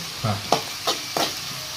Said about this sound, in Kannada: ಒಂದು ಉಳ್ಳಾಗಡ್ಡಿ ಪೂರ ಮಿಕ್ಸ್ ಮಾಡ್ಕೊತೀನಿ